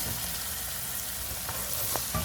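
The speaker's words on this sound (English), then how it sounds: "stir them together" Catfish pieces and ingredients being stirred together in a sizzling pan, a steady frying hiss with a few sharper utensil scrapes near the end, close and moderately loud.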